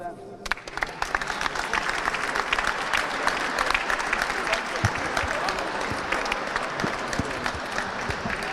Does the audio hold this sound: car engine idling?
no